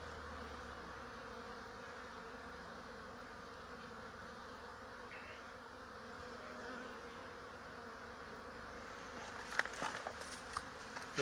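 Honey bees fly around a beehive on a sunny day, giving a steady, close buzzing drone that lasts throughout, with a few brief louder knocks and rustles near the end.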